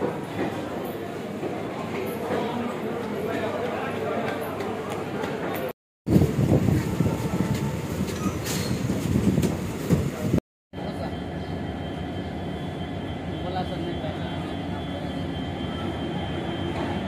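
A train departing Sealdah station sounds through loud, steady station ambience: a broad rumble of rolling wheels and machinery mixed with crowd voices, broken by two brief sudden cuts.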